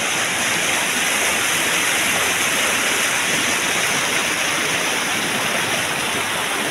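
San Ramon Falls roars loud and constant nearby, a dense, unbroken rush of water with no voices over it.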